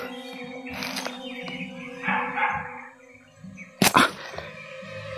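A dog barks a few times at a distance under a low steady hum, with one sharper, louder bark burst standing out near the end.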